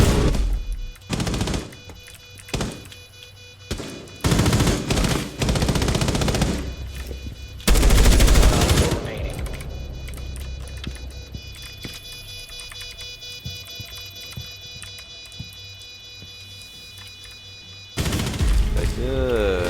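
Gunfire in the video game Rainbow Six Siege comes in loud bursts of rapid automatic fire and single shots, with gaps and quieter stretches between.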